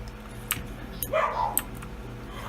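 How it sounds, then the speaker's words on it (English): A dog in a Windows XP-era video game gives a few short barks and a whining yelp, spaced out over a steady low background hum. "Why are you barking?"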